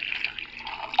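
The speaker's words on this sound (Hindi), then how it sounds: "और इसमें डालूंगी मैं पानी" Water poured into a mix of garlic cloves and salt for a chutney, a short steady splashing trickle at close range with no talk.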